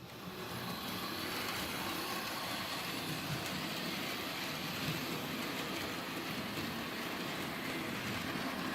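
A Bachmann HO scale Donald & Douglas model train pulls carriages around a lap of track at moderate speed, giving off a steady, even rolling rumble with no one talking.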